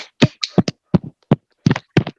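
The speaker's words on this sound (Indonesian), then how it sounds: "Semuanya kita kasih tepuk tangan untuk pembelajaran hari ini." A class applauds at the end of a lesson, a handful of scattered, separate claps and short bursts of clapping, close and sharp with silence between them.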